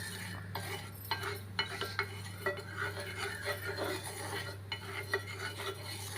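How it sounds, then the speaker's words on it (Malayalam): Oil is spread across a hot pan for double ada with a metal spoon: soft, scattered scrapes and light clinks over a quiet, steady kitchen hum. "ഇത് നന്നായിട്ടൊന്ന് പരത്തി കൊടുക്കാം എണ്ണ."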